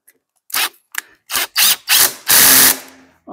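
Bolts are tightened on a custom Harley or Triumph bike safety guard in a workshop, with six short, loud mechanical bursts like a power tool or ratchet, the last one longer, separated by brief silences.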